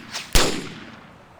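A single sharp gunshot in the video game Arma 2 DayZ, loud and close with a sudden crack followed by a short decaying tail, preceded by a faint softer noise.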